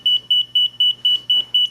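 A residential HVAC forced-air filter monitor sounding its change-filter alarm, a loud high-pitched electronic beep repeating in regular double pulses, with a faint low hum beneath.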